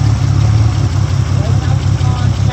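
A Toyota Supra left unused for 10 years idles loud and close, a steady low engine drone with an even rhythmic pulse throughout and some faint voices beneath it.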